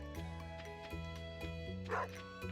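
Short dog barks and yips from the video game Stardew Valley, a few quick bursts over steady background music, with a brief louder yelp near the end.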